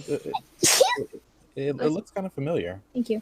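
A single sharp sneeze bursts out amid casual conversation, with people talking before and after it during a tabletop role-playing game session.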